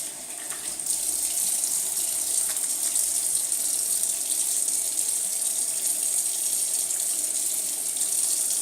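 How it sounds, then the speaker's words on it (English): A tap runs in a steady, full gush of water while someone rinses off, a constant close hiss from start to finish with no talking. "Alright, I'll just rinse off real quick."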